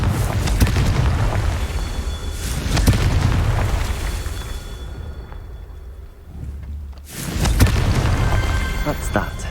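A Confringo blasting spell from Hogwarts Legacy goes off as a loud, deep booming explosion with a long rumbling tail, then a second heavy blast follows after a brief quieter gap.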